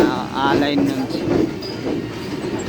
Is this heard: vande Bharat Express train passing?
yes